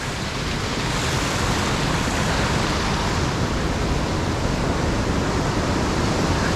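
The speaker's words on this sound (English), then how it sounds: "Cucumber Run pouring water in, and then so here at Cucumber Rapids you get pretty high water" Loud, continuous roar of rushing water as a creek pours into high-water river rapids at Ohiopyle, a dense broadband rumble that stays steady throughout with no voices.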